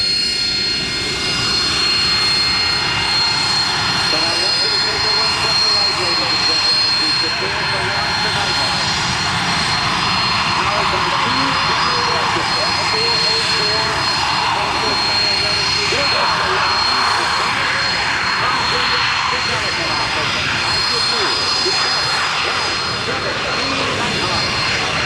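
An AV-8B Harrier jet flying a demonstration at the Dayton airshow, its loud roaring engine sustained and steady throughout, with a public-address announcer talking over it.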